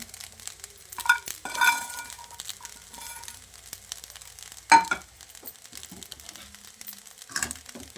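A spatula scrapes and clinks against a pan while paneer fried rice is stirred and fried, with a few louder metallic scrapes over a soft, faint sizzle.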